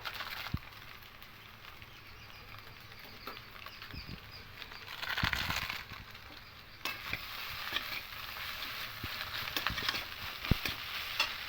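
Flour batter with Maggi noodles is mixed in a bowl, giving soft scraping and stirring sounds with occasional clicks, fairly quiet and close, with no talking.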